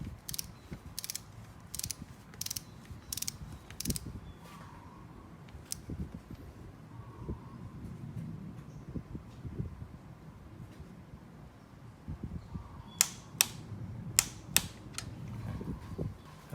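A ratchet clicks in quick runs while the valve adjuster lock nut is tightened on a Honda four-cylinder engine, with quieter mechanical handling in between and a fresh burst of clicks near the end; no one talks.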